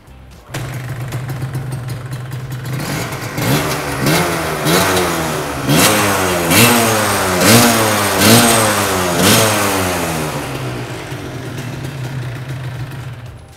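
A Cagiva Stella two-stroke motorcycle engine idles, then is revved repeatedly in rising and falling bursts, close and loud, before settling back to a steady idle.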